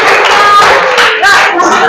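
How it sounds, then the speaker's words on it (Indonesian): Classroom applause during a poetry lesson, a burst of clapping from a group of students mixed with voices, fairly loud and close, tapering off toward the end. "Tepuk tangan untuk kita."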